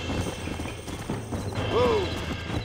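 Horse hooves clip-clop steadily in Red Dead Redemption, close and continuous under game ambience, with a short whinny near the end.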